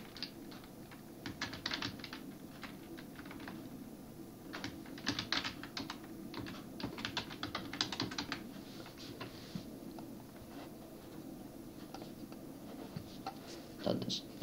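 Rapid typing on a computer keyboard as a web address is entered into an internet browser, a steady run of close, crisp key clicks with short pauses, over faint room hum.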